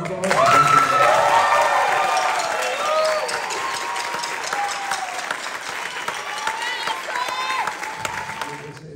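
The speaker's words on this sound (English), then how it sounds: "can we have all the soloists just quickly stand one more time for a round of applause?" Sustained audience applause for soloists of a high school jazz ensemble at a winter jazz night, loud and steady for several seconds, mixed with cheers and whoops from the crowd.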